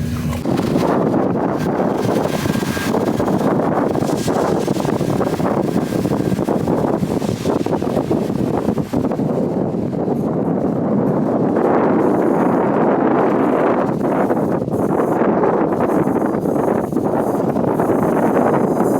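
Strong wind gusts buffet the microphone on an open island railway platform at Nuneaton, a loud continuous roar with rustling surges and no voices.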